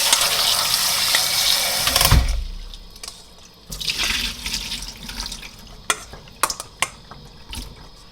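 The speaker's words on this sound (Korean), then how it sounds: "그러면 이 물을 따라 버리세요. 그리고 물로 한번 헹궈줍니다." Soaking water poured off kelp and the kelp rinsed under running water: a loud, rushing gush for about two seconds, then quieter intermittent splashes and sharp drips and clinks as the rinsing goes on.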